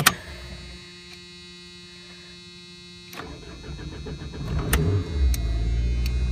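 An old Mopar engine, sitting unused for a month, cranks and catches, settling into a near, moderately loud running idle with a few sharp clicks over a faint steady hum.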